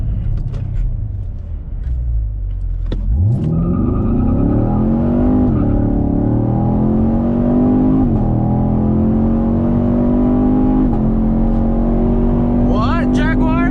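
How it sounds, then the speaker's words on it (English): A 2020 Chevrolet Camaro SS V8 roars into full-throttle acceleration, its pitch climbing steadily through gear changes, loud and close with a deep rumble underneath. "I'm just put it in drive and floor it one time real quick."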